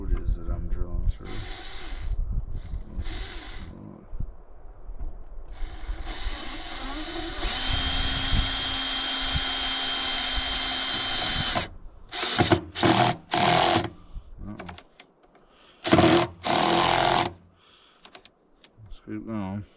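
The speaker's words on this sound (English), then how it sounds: "I don't know how hard this wood is that I'm drilling through." A cordless drill bores through wood of unknown hardness with a whirring motor in sustained runs. It then breaks into short, stuttering bursts with pauses between, heard close up and alone.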